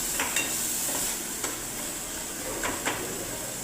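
Onions frying in hot oil in a wok for a corn usal, a faint steady sizzle with a few light scrapes of a spoon against the pan.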